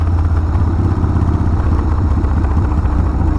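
A 1994 Harley Davidson Sportster 1200 motorcycle engine idles close by in a steady, loud, low-pitched rumble that holds without a break.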